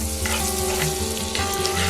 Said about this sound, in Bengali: ওই তেলের মধ্যেই আমি 1 চামচ বাটার দিয়ে দিচ্ছি